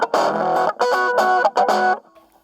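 Electric guitar played through a cheap $50 micro amp set to a clean, spanky tone, three loud strummed chords in quick succession, then ringing out and fading.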